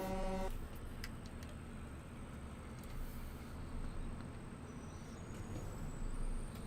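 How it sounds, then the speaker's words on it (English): A loud truck engine rumbles in Farming Simulator 19, a steady low drone with a brief horn-like tone at the start and faint clanks over it, no talking. "Whoa, that is a loud truck though, let's be honest."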